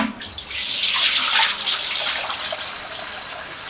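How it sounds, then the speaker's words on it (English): Water is poured into a cooking pot to start a turkey brine. A loud, close gushing splash rises quickly and then eases into a steady stream with no talking. "you're going to take your water, going to pour it in the pot."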